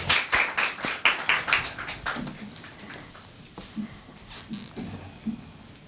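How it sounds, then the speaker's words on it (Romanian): A small audience applauds a folk artisan at a traditional gathering. Distinct hand claps ring out quickly at first, then thin into softer, sparser clapping with faint low murmurs. "Să o aplaudăm!"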